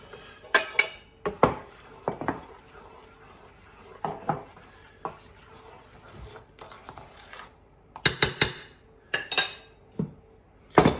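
A spoon or whisk stirs eggs into brownie batter in a bowl, giving irregular clinks and scrapes against the bowl with brief pauses and a denser burst of clatter near the end.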